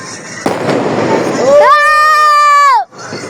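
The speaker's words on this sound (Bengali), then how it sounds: "এই লাস্ট বোম ফুটে আমি চলে যাব বাসায়" A firecracker bomb set off at a New Year celebration: a rush of crackling noise, then a loud, sustained whistling tone lasting about a second before cutting off abruptly, with voices nearby.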